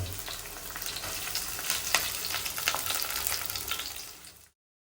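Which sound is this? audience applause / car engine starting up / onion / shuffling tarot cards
onion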